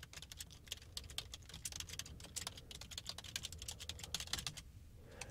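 Rapid, steady clatter of keys on a computer keyboard, close and fairly quiet, typed in continuous bursts with no voices.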